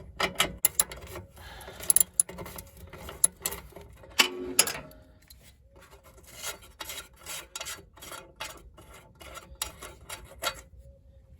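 A 10mm hex bolt is worked loose from an aluminium cover on a 2012 Range Rover Sport SDV6, giving quiet close ratcheting clicks and scraping rasps in uneven bursts with short pauses.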